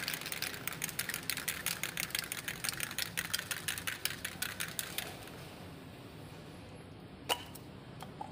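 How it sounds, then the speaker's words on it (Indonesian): Rapid rhythmic rattling of a shaken can of sealant spray, a steady clatter for several seconds, then stopping with a couple of faint clicks afterward. "Dan ini kita kocok terlebih dahulu agar merata bagian spraynya."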